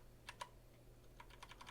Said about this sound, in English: We could navigate with our keyboard.